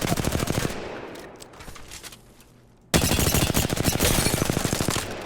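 Rapid automatic hip-fire from a gun in Apex Legends, a dense rhythmic stream of close loud shots, fading briefly midway before a second sustained burst erupts.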